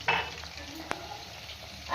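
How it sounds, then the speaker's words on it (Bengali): Chicken pakoras frying in oil make a continuous close sizzle, with a brief utensil clink partway through and no talking. "সো এখন নিজে চিকেন পকোড়া ভাজা হচ্ছে"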